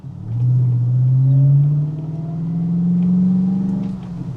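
A TVR Chimaera 450 driving at low speed, its engine giving a loud, steady rumble that rises gradually in pitch as it pulls, with a brief dip before climbing again.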